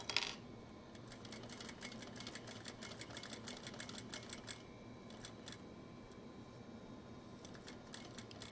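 A sewing machine runs steadily, stitching around the reinforced corner of a fabric petal pouch, with a constant low motor hum under a rapid ticking needle and faint clicks, all close by.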